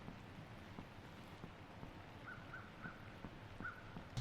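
Steady patter of rain in a horror video game, with a soft hiss throughout, a few faint chirps or tones near the end, no talking.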